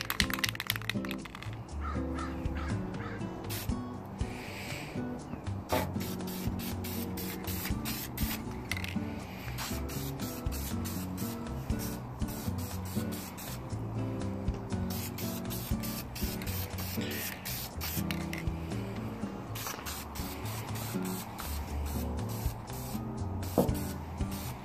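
Aerosol spray paint hissing in short bursts and longer passes while restoring vintage travel trailer tail lights, with a rattling can and scattered clicks between sprays, close and steady throughout.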